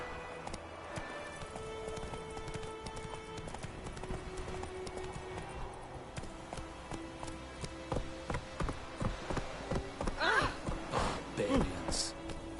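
Horse hooves galloping in a PS4 video game, a rhythmic clip-clop beneath game music and background ambience, growing busier and louder toward the end, with short voice-like bursts near the close.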